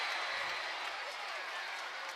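A boxing crowd at the Deji vs Jake Paul fight roars and applauds in a dense, sustained wash of cheering that fills the arena, with a voice speaking faintly underneath.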